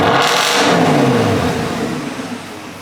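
A Porsche Cayenne engine, its exhaust fitted with a bypass and a muffler welded on, revs up loudly and close, then falls away into a lower, settling tone.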